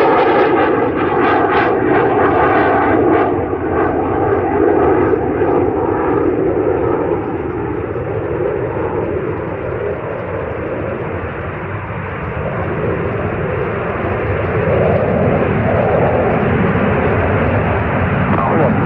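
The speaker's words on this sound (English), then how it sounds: "Columbia, welcome home. Beautiful landing." Space Shuttle Columbia touching down at the end of the STS-9 mission, a broad sustained roar of rushing noise and engine-like rumble that holds loud for nearly twenty seconds and dips slightly midway.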